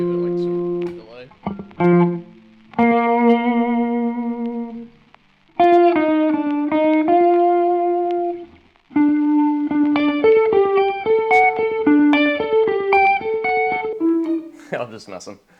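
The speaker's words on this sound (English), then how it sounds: "I can even give it like some delay." A melodic guitar line with sustained notes, each phrase trailing off in echoing repeats and ambient wash, playing alone at moderate loudness.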